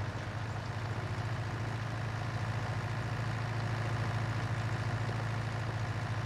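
Tractor engine idling in the Farming Simulator 2019 game: a steady, continuous low diesel rumble that holds level and unbroken, with no talk over it.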